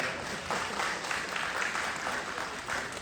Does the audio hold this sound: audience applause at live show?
yes